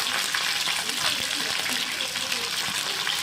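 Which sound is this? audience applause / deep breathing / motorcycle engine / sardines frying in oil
sardines frying in oil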